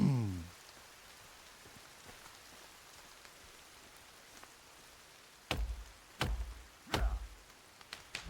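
Soft rain falls steadily in the video game Sons of the Forest, a faint continuous patter, broken near the end by a few sharp knocking chops.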